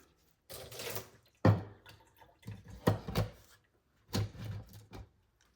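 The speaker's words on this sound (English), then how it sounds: "let me water that in" Water poured from a can onto a freshly potted plant in soil, three separate bursts of splashing and trickling, close and fairly quiet, with short pauses between pours.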